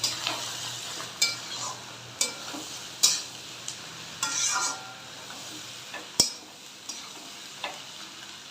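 Fish roe fries in a pan with coriander leaves, a steady low sizzle broken by repeated scrapes and taps of a spatula stirring against the metal at an uneven pace.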